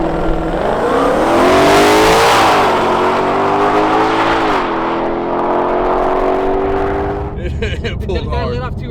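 A 2020 Ford Mustang Shelby GT500 accelerates hard down a quarter-mile strip, its engine note loud and close, climbing steadily through the gears with brief dips at shifts, then backing off near the end as people start talking.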